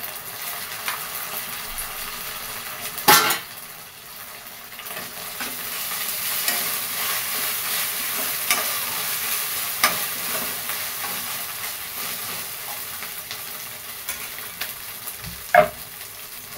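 Chopped onion and ginger paste sauté in a pan with a soft, continuous sizzle close by, broken by occasional scrapes and clinks of a spoon stirring against the metal.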